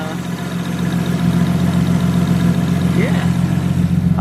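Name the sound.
Nissan R33 Skyline engine running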